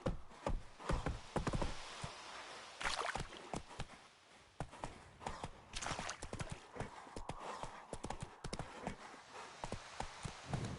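Horse galloping in The Witcher 3 video game, a fast, uneven clip-clop of hooves pounding close and fairly loud throughout, with a brief lull near the middle.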